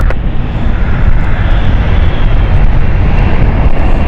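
Airplane engines roar steadily at London City Airport on runway 27, a loud continuous broadband rumble that holds constant throughout without any talk.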